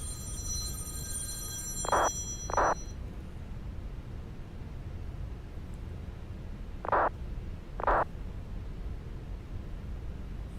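A phone rings with an incoming call, sounding as two pairs of short electronic chirps: one pair early on, another near the end. They sit over a steady low background hum, with no talking.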